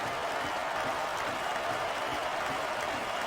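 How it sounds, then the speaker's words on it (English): A dense, steady roar of a cheering wrestling arena crowd in the SmackDown vs Raw 2006 video game, continuous and loud throughout with no distinct voices standing out. "Oh, man, these fans are fired up now."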